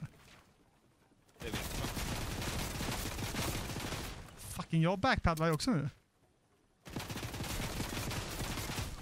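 Gunfire in Fortnite Chapter 2: a short burst of rapid shots in the middle, loud and close, set between stretches of people talking in Swedish.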